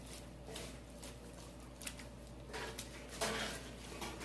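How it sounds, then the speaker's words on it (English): Tomato paste and zucchini salsa being stirred in a cooking pot, soft scraping and occasional knocks of a utensil against the pot, quiet and close, with a few louder clanks toward the end; no talking. "We're just going to give this a good stir."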